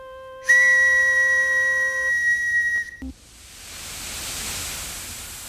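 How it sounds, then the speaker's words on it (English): A bright, steady hand whistle blows loud and close for about two and a half seconds, then stops sharply and gives way to a soft rushing hiss. "first I have to find my whistle"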